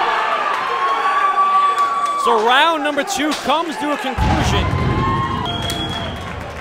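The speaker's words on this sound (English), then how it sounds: "a lot of those people are cheering in support of Kyle Matt Hughes" At an MMA event, a crowd cheers and roars loudly in a large arena between rounds, with a whistling tone and scattered shouts rising above the din while a commentator talks over it.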